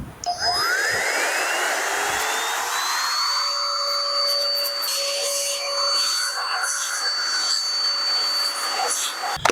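A cordless Makita 18V LXT air duster clone spins up with a rising whine to a steady high-pitched blowing roar while clearing out a Dyson vacuum, holding the pitch for several seconds before cutting off.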